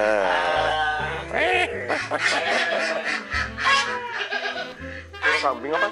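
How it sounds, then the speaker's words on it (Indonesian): Goats in a pen at a countryside resort in Bogor bleat in wavering, repeated calls, mixed with people talking nearby. "Oh, kambing apa sapi? Oh kambing."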